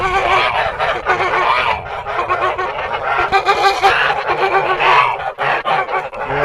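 Four-month-old Kholmogory geese honk continuously in a loud, overlapping flock chorus close by, with rapid irregular calls layered over one another and no pauses.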